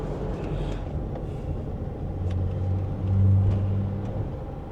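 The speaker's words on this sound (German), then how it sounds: "Also falls euer Turbolader defekt ist," A car engine with a defective turbocharger runs with a steady low rumble, swelling into a louder droning surge near the end, with no voices over it.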